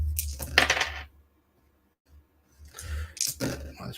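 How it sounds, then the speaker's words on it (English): Dice clatter during a tabletop gamebook game (Fighting Fantasy, Island of the Lizard King): two bursts of rattling and clicking on a hard surface, close by, separated by a second or more of silence. "If the red dice keep rolling double 5s and double 6s and things like that, then we're sound."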